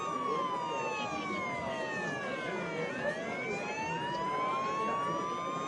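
Several police car sirens wail together, overlapping rising and falling tones that sweep up and down continuously and loudly throughout.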